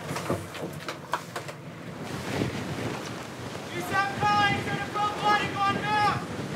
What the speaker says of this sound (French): le vent est encore monté et souffle maintenant en rafale à plus de 60 km à l'heure